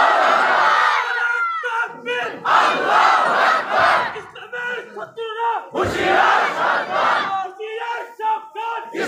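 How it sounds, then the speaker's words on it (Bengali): A large crowd at an outdoor Islamic sermon gathering at a bazaar in Cumilla, Bangladesh, loudly shouting takbir in unison in long rolling waves of massed voices, close and powerful. "দাঁড়ান, দাঁড়ায় জোরে তাকবীর দিলেন।"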